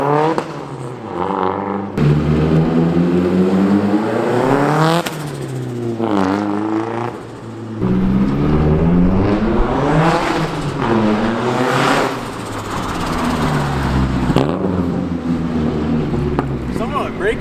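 A Nissan 240SX engine with a new exhaust revs repeatedly, rising and falling in pitch, loud and close, with people talking over it.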